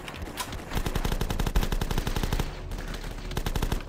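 Rapid automatic gunfire from The Last Stand video game rattles in a dense, even burst of shots lasting several seconds, loud and steady with only brief dips.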